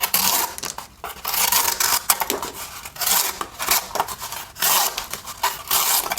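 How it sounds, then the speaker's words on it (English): A Divo Nip Jack Sparrow small-blade pocket knife slicing through cardboard at an angle, giving repeated scraping, tearing cuts with brief pauses, close and fairly loud with no talking. "this thing can certainly cut some cardboard"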